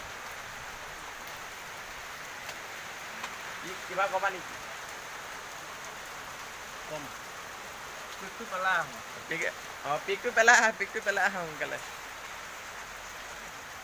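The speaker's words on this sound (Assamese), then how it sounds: "বৰষুণ পৰি আছে বাহিৰত ধামাকা বৰষুণ দি আছে আজি ৰাতিপুৱাৰ পৰা" Steady heavy rain falling outdoors in a downtown shopping street, a continuous hiss that runs under brief conversation between people standing at a shop.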